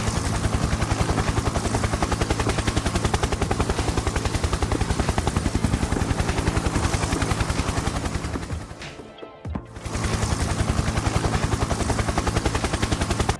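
A helicopter arrives in a survival video game: a loud, steady rotor drone, dense and sustained, that cuts out briefly near the end before resuming at full strength.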